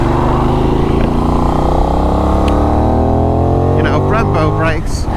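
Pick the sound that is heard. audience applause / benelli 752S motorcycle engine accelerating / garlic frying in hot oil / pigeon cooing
benelli 752S motorcycle engine accelerating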